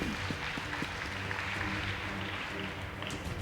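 Applause from a school debate audience after a score is announced for Kombeni Girls Secondary School, a steady, fairly faint wash of clapping with a low hum of crowd noise throughout.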